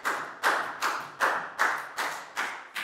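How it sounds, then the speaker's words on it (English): A classroom of Year 4 students claps together in a steady, even rhythm, about seven crisp beats, close and clear with no talking. "High five and a big round of applause for Bangpon, please, guys"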